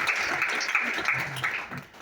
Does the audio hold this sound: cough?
no